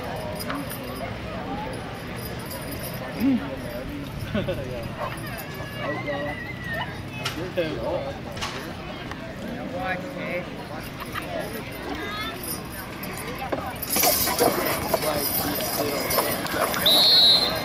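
Hooves of draft horses pulling a 4,600-pound boat at the Shelburne Fall Fair horse pull, clopping irregularly on the ground beneath crowd noise, an announcer's voice and a burst of commotion near the end.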